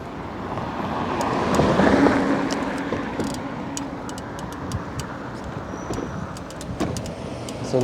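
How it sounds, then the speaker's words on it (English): Road traffic on a Brooklyn street near a park path on Memorial Day, with cars rolling past at a steady hum that swells once early on, plus scattered small clicks and rattles close by. "It's a little bit tricky here with the cars."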